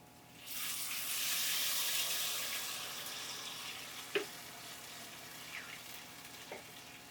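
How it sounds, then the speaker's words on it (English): Hot broth, four cups of it, poured into a risotto pan of coated rice hisses and sizzles loudly at once, settling into a steady bubbling fry with a couple of faint clinks, and no one speaks. "I'm going to throw in 4 cups of this hot broth. Watch it because it's going to splatter."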